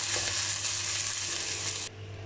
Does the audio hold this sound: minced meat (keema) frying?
yes